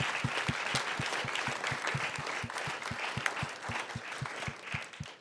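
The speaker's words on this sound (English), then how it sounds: "one more round of applause for Ben and team" An audience at a live, semi-staged play reading breaks into sustained applause, a dense wash of clapping with a regular low thumping beat running underneath.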